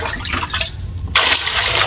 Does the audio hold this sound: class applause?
no